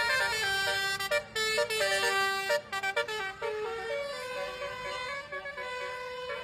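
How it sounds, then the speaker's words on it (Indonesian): A musical telolet bus horn plays a bright, tuneful sequence of loud honking notes at night, starting in bursts and then holding a long sustained chord. "Alunan klakson telolet yang khas menggema di malam hari"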